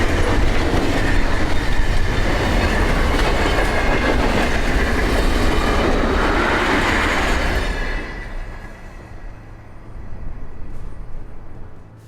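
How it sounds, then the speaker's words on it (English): A train led by a mostly blue set of locomotives rumbles loudly and continuously with a rolling roar, then the noise drops away and fades into a quieter, more distant rumble. "a mostly blue set of locomotives pulls short train 589 as it comes into view"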